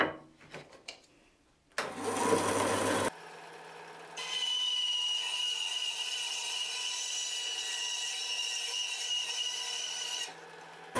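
A JiB BS-12 band saw, just re-tensioned after an upgrade, starts with a clatter and then runs with a steady whirring drone and faint high whine for several seconds before stopping.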